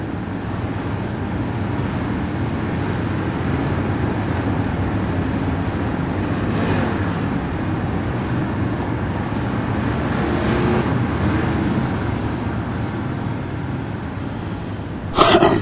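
Dirt race cars circle on a pace lap in the iRacing Monsters of Dirt sim race, a steady, even engine drone that holds unbroken for the whole stretch, with no talk over it.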